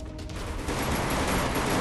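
Gunfire in a Garena Free Fire match, a dense continuous roar of shots and battle noise that holds steady and loud throughout with no clear gaps.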